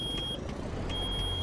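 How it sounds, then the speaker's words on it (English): In American Truck Simulator, a truck's low-air warning buzzer sounds as a steady high electronic tone, cutting out and resuming over a continuous engine rumble inside the cab. "I got the buzzer beeping"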